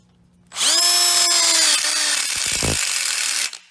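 A power drill spins up sharply and whines steadily for about three seconds while driving a screw into a cheap, flexing steel stud, then stops abruptly; close and loud, no talking.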